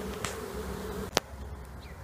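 Honeybee swarm hived in a box, a steady low buzzing hum of bees fanning, faint and continuous, with a couple of brief knocks partway through.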